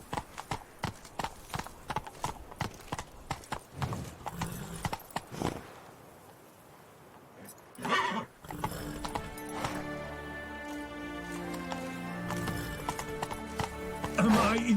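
Roach, a horse in the Witcher 3 Blood and Wine game, gallops with rapid rhythmic hoofbeats, then pauses before a whinny and music swell in; a voice speaks briefly over the action.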